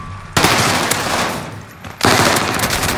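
Rapid automatic gunfire from a first-person shooter match on the Caldera map, two loud dense bursts of shots up close separated by a brief lull, with no talking.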